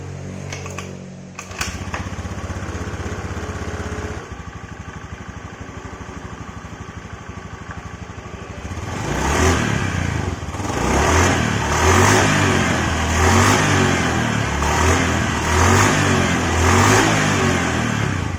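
A Honda Vario scooter engine idles on a test after an oil refill and bearing repair, then revs up into a louder, rising drone that pulses with repeated throttle blips, heard close with no talk.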